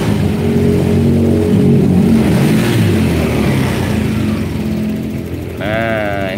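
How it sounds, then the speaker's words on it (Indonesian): A Honda Vario scooter engine revs loud and steady with the throttle opened, a continuous close mechanical drone that dips slightly near the end. "Sekarang kita gas lagi teman-teman."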